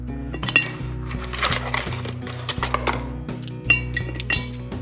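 Loose metal wheel lug studs for a 1979 Dana 60 axle clink and jingle against each other as they are handled, with a quick run of close, bright clinks and no talking.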